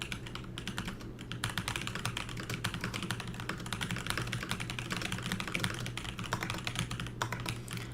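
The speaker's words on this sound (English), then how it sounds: "I have to type out this whole announcement." Fast, continuous typing on a computer keyboard, dense clacking keystrokes close to the microphone over a low steady hum, with no talking.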